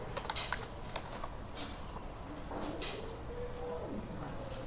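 Typing on a computer keyboard in a game editor, with quiet rapid key clicks in a short burst at the start under a steady background hiss, followed by faint scattered taps.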